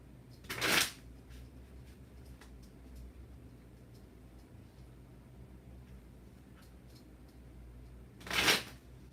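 Oracle spirit cards are shuffled in two short, soft riffling bursts several seconds apart, close and quiet over a faint low background hum.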